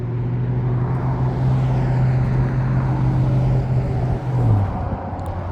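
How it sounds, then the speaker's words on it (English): Trucks and other vehicles drive past on a desert road near old mine tailings, making a steady, fairly close engine rumble and road roar with a low drone that dips near the end, with no voices. "Noisy trucks and vehicles driving past me"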